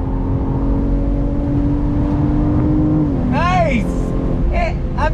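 A BMW M440i convertible drives through a turn, its engine droning loud and steady with a rising and falling pitch, while a person speaks over the engine noise.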